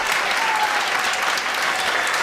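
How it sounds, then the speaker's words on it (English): Sustained applause from an audience at an 8th grade graduation for student performers, dense, even clapping that holds steady throughout, with no voices over it. "Can we have another round of applause for them?"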